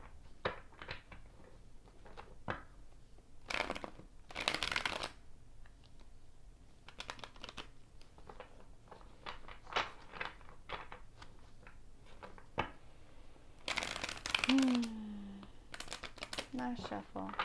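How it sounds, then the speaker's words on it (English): Tarot cards are shuffled by hand in soft, quick riffling bursts and scattered taps, close and fairly quiet, with brief pauses between runs. "One more shuffle."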